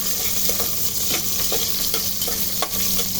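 Garlic and onions sautéing in a pan for chicken adobo, a steady sizzle with repeated scraping stirs at a loose, regular rhythm, close and alone.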